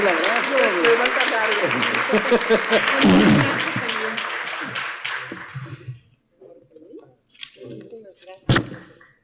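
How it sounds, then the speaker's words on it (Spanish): Audience at a panel on media and prevention giving the panelists a strong round of applause: dense clapping for about five seconds under a speaking voice, tapering off into quieter room sounds and a final loud knock. "los despedimos con un abrazo, con un fuerte aplauso"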